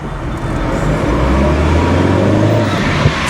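A Dacia 1310 car pulls away from traffic lights, its engine noise rising into a loud, continuous drone heard from inside the cabin, with steady low rumble throughout and no talking.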